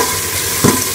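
Whole spices including star anise, cinnamon sticks and cumin seeds being stirred and fried in hot oil for beef yakhni pulao, a steady close sizzle with scraping stir sounds throughout.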